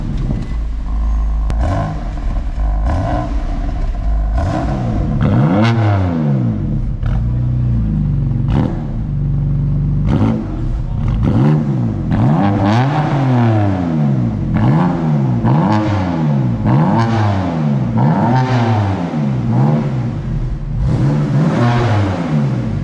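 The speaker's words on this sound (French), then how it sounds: "On va faire l'allumage en mode fermé et après on va ouvrir les valves." A BMW M3/M4 F8X straight-six starts with its exhaust valves shut, then revs repeatedly once they open, producing loud, close blips that climb and fall in a steady rhythm with a clattering, raspy edge.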